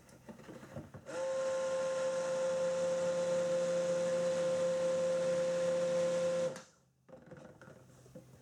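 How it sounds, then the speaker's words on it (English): Stick blender mixing lye water into oils for cold process soap, a steady motor whine with a strong tonal hum that switches on, runs continuously for about five seconds, then cuts off, with quiet handling noise around it. "we are going to use the stick blender to blend the lye into the oils"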